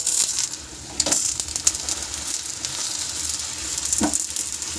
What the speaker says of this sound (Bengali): আর এই দিকে চলছে পরোটা ভাজা